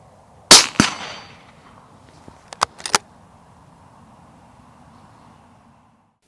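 A suppressed Sauer 404 rifle in .308 Winchester fires a single sharp report up close, with a brief decaying tail, then a few quick metallic clicks follow against quiet background.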